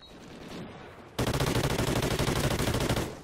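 An automatic gun in Call of Duty: Ghosts fires a rapid, sustained burst of evenly spaced shots lasting about two seconds, loud and close, after a brief stretch of quieter game ambience.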